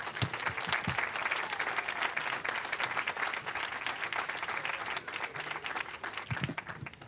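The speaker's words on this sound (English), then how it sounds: "So could we give them a round of applause?" Audience applause at an outdoor summer community band concert in St. Louis Park, thanking the school district and its driver, steady dense clapping from a crowd for about seven seconds with a few louder claps near the end.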